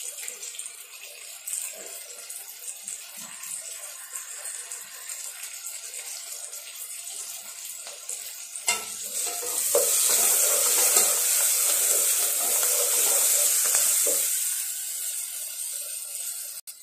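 Onions sautéing in a kadai for semiya chicken biryani, a continuous bright hiss of frying that swells louder midway, with scraping and rattling of the spatula and no voices.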